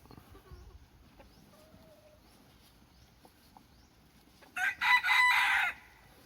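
Quiet surroundings, then a loud, close bantam chicken crow bursts out near the end in two brief stretched calls.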